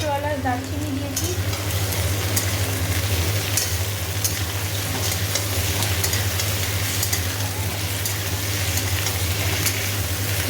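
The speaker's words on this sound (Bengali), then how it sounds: "ভালো করে এবার এটা ভাজা হোক" Onion with green cardamom and cinnamon frying in an iron wok for a meat curry, a steady, close, continuous sizzle and crackle with occasional stirring scrapes, no speech.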